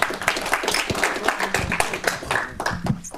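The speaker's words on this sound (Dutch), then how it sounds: "Dus hartelijk applaus voor Marcel" Audience applause at a hacker conference talk on social engineering, a dense steady wash of many hands clapping for about three seconds, with faint voices mixed in.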